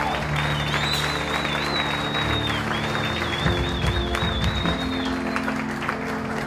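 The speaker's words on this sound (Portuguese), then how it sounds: "Você pode aplaudir o Senhor?" A church congregation applauding, a sustained wash of clapping from a crowd at a worship service, mixed with a held electronic tone and background voices.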